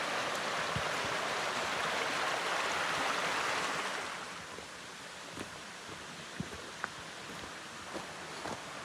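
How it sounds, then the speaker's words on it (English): Creek water at the Rough Creek crossing in the Cohutta area rushes steadily and close by, a broadband wash that eases slightly partway through, with a few small knocks and footstep-like clicks over the flow. "Nice little creek crossing here of Rough Creek."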